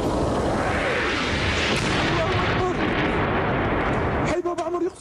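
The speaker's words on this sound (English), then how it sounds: "In the besieged neighborhoods of Homs, the explosions came every few seconds." Explosions and shelling in the besieged neighborhoods of Homs, Syria, a loud, continuous rumbling roar of blasts that fills the clip before easing off at the end.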